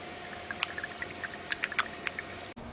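Water is poured into a container of coarse aggregate in a lab, with short splashing and trickling sounds over a steady background hum.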